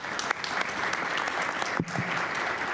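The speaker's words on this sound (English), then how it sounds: "If you wouldn't mind a hand of applause for this great panel" An audience at a climate week panel session gives sustained applause, a continuous even wash of many hands clapping, moderately distant in a large room.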